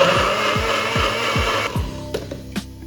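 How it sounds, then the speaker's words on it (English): A blender blending salad dressing whirs steadily at high speed, then cuts off, leaving a few light clicks and taps. "Just had to give our blender a head start"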